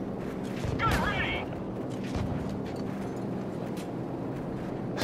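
Heavy cannon fire from an AC-130 gunship in Call of Duty 4: Modern Warfare, booming rumbling blasts around a church, with radio chatter from the crew over the continuous low roar.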